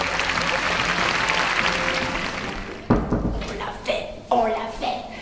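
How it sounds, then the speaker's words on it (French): An audience in a theatre in Rennes gives sustained applause for the first few seconds, then it cuts off and voices talk nearby. "Un tonnerre d'applaudissements pour Élodie Pou"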